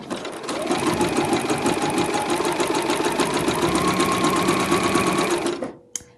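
A sewing machine stitches a narrow zigzag across fabric for an espadrille dust bag, a steady, fast mechanical whirr that runs unbroken for about five and a half seconds before stopping, followed by a small click.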